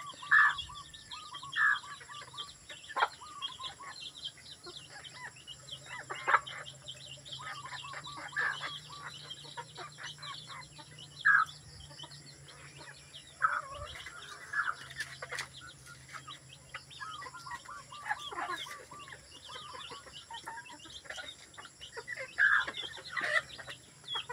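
Chickens cluck and call repeatedly at a moderate distance over a steady outdoor background hum, with scattered chirps in between.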